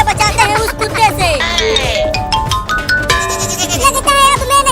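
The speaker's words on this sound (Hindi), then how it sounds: "वो रहा बकरी का बच्चा" A cartoon goat kid bleating in a Hindi comedy, several loud, wavering bleats over busy background music and effects, with cartoon voices around them.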